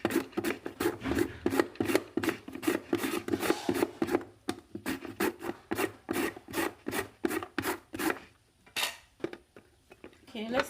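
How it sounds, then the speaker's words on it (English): Carrot pieces are grated in a kitchen gadget, with rapid, rhythmic rasping scrapes close up, a steady run of strokes that pauses briefly before resuming. "I changed the carrot to these 3 pieces, so we are going to grate them"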